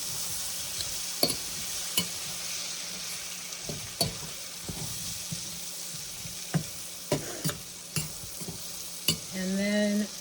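Chopped sausages frying in a pan, a quiet sizzle under repeated crisp clicks and knocks of a utensil, ending with a brief louder scraping rattle.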